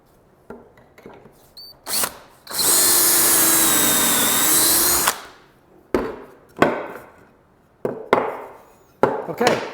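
A power drill drives pocket hole screws into wooden boards, with one long sustained whirring run lasting a few seconds, followed by several short bursts and knocks of wood being handled nearby.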